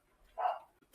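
A single short dog bark rings out at a moderate distance in an otherwise quiet street scene, followed by a brief faint noise.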